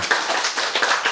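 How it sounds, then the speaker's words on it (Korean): Lecture audience clapping in a brief burst, a quick run of close, sharp hand claps at an even rhythm. "박수."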